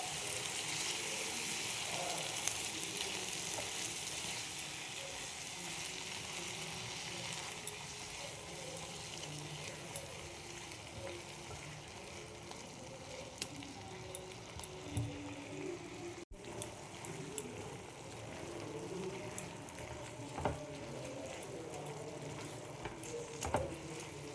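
Tomato paste sizzles in a hot frying pan while cooking mete chorchori, a liver dish: a steady, close, watery hiss with faint clinks, and no talking.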